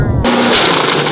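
A single loud, sharp gunshot from a 4 bore rifle fired into ballistic gel, an abrupt close blast followed by a short decaying tail.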